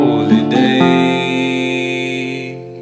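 Fingerstyle acoustic guitar plays a short phrase of the Matty Groves melody: a few plucked notes that settle into a sustained ringing chord, close and clear, with no voices.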